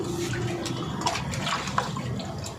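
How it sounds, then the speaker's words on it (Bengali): Cooking utensils being washed with water in a home kitchen, a steady close splashing and running-water wash with a few small knocks, no talk. "এখানে বাসনগুলো আমরা জলে সুন্দর ধুয়ে নিচ্ছি"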